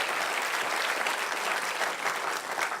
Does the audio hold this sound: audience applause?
yes